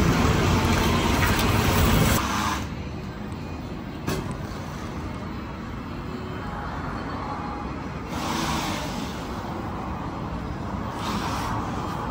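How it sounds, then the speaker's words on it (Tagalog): A car fitted with newly replaced tires is driven into a parking area, with close, steady engine and road rumble. The noise is loudest for the first two seconds, settles lower, then swells again briefly later on. "dinarive na po niya para i-park po yung ating sasakyan"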